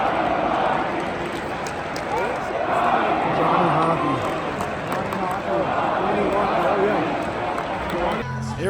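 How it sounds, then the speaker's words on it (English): A large crowd in a hockey arena chants "Johnny Hockey" during a championship game, a loud rhythmic roar of many voices that fills the space continuously. "there was a very special moment when the whole crowd started chanting Johnny Hockey"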